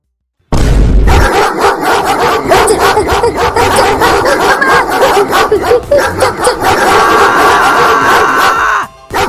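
Several dogs bark and yip repeatedly in a loud, overlapping chorus, continuing steadily with short whimpers mixed in.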